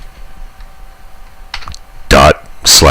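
Keystrokes of a terminal command typed on a computer keyboard on a Linux Mint system, a few soft clicks at first and then two loud, close bursts of tapping near the end.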